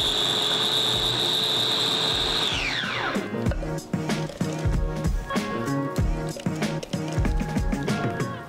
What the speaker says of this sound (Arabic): دابا غادي نطحن المطيشه